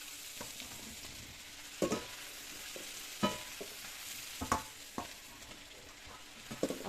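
Fried bread pieces being mixed into bread poha in a pan, a low steady sizzle broken by a series of soft scraping and clinking stirring knocks at irregular intervals.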